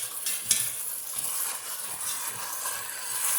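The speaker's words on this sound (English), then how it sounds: "Just braising them, the oxtails, before we put them in the oven with some herbs and some seasonings and some fried in a little bacon grease too." Oxtails sizzling in bacon grease in a pan, a soft steady crackling hiss with faint stirring taps, fairly quiet.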